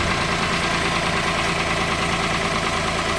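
A Peugeot 107 engine idles steadily and evenly right after a front exhaust gasket replacement, a close, continuous mechanical drone with no other sounds.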